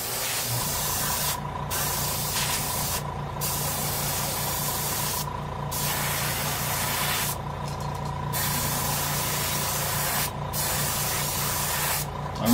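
An airbrush sprays pink paint onto a blank saltwater fishing lure, a steady close hiss broken by several short pauses, with no talking.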